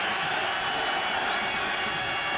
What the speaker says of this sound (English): Crowd now rising.